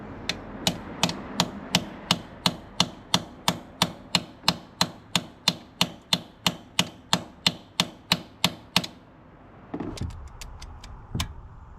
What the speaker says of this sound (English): if you really hammer on it a little more, it helps break them free